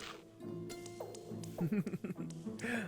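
A dog in The Blackwell Legacy, a point-and-click adventure game, gives a few short, quiet yips and barks over a soft background of game music.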